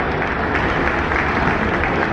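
Basketball arena audience clapping for Fairfield seniors before a game, a dense, even wash of applause from a large crowd that holds steady throughout.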